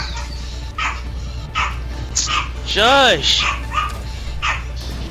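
Dogs bark repeatedly in Overwatch, sharp yips and one loud pitched whine-bark near the middle, spread across the clip while a voice speaks briefly.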